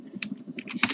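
Rapid keystrokes tap on a computer keyboard in a quick, uneven burst of about a dozen close, crisp clicks.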